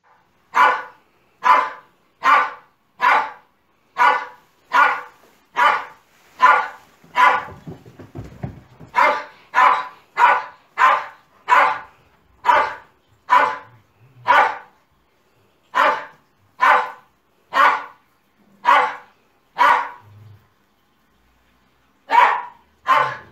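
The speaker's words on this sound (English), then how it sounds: "quite apart from the actual sound of the bark, you can tell that sort of one bark was very similar to the next one." A standard poodle left alone barks over and over, each bark sounding nearly identical, in a steady rhythm of loud, close, sharp barks with brief pauses and no talking.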